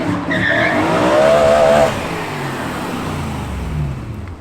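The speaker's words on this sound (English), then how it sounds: "It's a naturally aspirated V8 M3 because he can't afford the one with the turbo." A naturally aspirated V8 BMW M3 revs hard and skids, its tires squealing loudly before the engine note fades and trails off.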